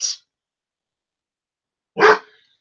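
A dog gives two sharp barks, one at the very start and another about two seconds later, with silence between them.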